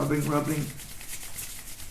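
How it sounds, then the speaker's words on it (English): Hands rubbing together and against the soles of the feet during a kundalini yoga session produce a soft, continuous, close-up friction hiss after a brief moment of speech at the start. "rubbing the soles of the feet and rubbing the hands, creating a kind of heat from the friction"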